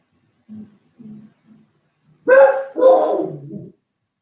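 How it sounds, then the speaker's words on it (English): A dog barks indoors during a chair yoga class, starting with a few soft low woofs and then two louder, longer barks up close. "The dog's saying hi again."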